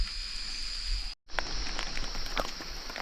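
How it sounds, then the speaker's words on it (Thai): Rain beginning to fall outdoors during an evening trip, a steady dense hiss of drops with scattered close patters, continuous apart from a brief gap, no clear talk. "ฝนก็เริ่มตกเลย"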